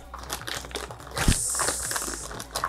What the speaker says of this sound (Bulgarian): Така хубаво шумли. Около тази хартия.